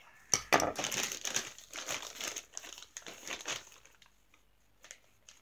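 Cardboard mail package with plastic wrapping being cut and torn open, a run of close crinkling, crumpling and rustling bursts that fade to a few faint rustles.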